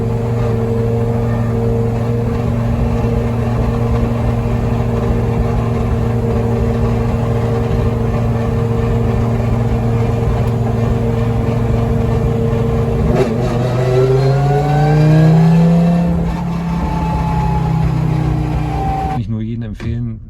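Engine of an Audi S1 Pikes Peak race car at a hill-climb event near Osnabrück, droning loud and steady as heard from inside the car, then rising in pitch through a gear as it accelerates, with people talking over it.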